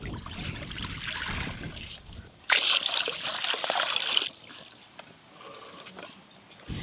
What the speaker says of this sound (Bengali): প্রথমে চাউমিন সেদ্ধর জন্য কড়াতে পরিমাণ মতো জল দেব।